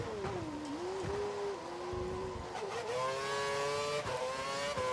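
A Formula One car engine in the video game F1 2012 at the Australian Grand Prix whines steadily near at hand, its pitch dipping and climbing through gear changes and rising revs; no talk.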